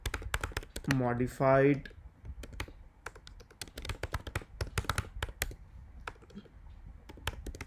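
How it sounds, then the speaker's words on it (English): Typing on a computer keyboard, a steady run of quick close clicks and taps, fairly quiet, with a short spoken word near the start. "So I'll type"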